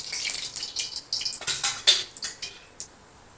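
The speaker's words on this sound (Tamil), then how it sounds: "எண்ணெய் ஊற்றிக்கலாம்." Cooking oil is poured into a pan for Kothamalli Thokku, coriander chutney, giving a series of short, light splashy trickles and drips close by, alone without talk.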